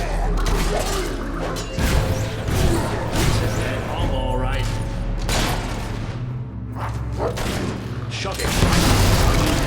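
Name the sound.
gunfire in video game Fable III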